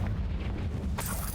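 Confringo blasting spell in Hogwarts Legacy detonating with a sudden, loud burst near the end, following a low rumbling lead-in.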